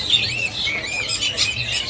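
Prinia birds in stock at a bird shop kiosk give shrill, high chirps and squeaky calls, several overlapping close by in continuous bursts.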